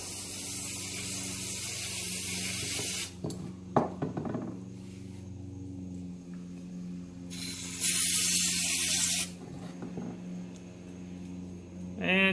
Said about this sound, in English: use brake fluid cleaner or anything similar